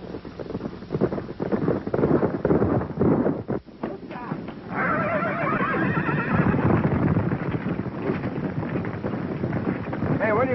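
Horses neigh and whinny loudly near a camp by a river, with hooves clip-clopping and wind buffeting the microphone; people talk over the animals throughout.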